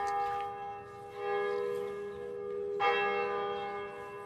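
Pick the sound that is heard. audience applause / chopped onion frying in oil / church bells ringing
church bells ringing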